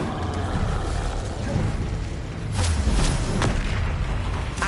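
Incendio fire spell in Hogwarts Legacy on PS5, a deep rumbling burst with a booming, whooshing blaze that swells midway, loud and close with game ambience underneath.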